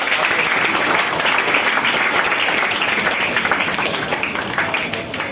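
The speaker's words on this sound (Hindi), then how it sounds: "चलिए फिर से एक बार जोरदार ताली।" A ceremony audience bursts into loud, sustained applause, dense steady clapping that fades slightly toward the end, honoring a former student painter presenting his painting as a gift.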